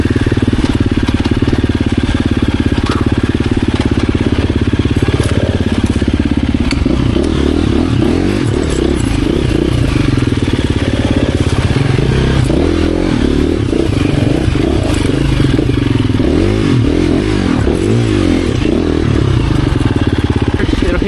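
A 2024 KTM 350 EXC-F enduro motorcycle rides off-road with a loud, continuous engine drone that rises and falls with throttle, close by, with clattering and scraping from the terrain.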